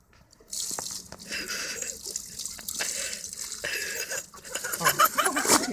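Water from a bucket splashes onto a person's face during waterboarding, a continuous pouring and splattering rush lasting several seconds, close and moderately loud, with faint muffled voices under it.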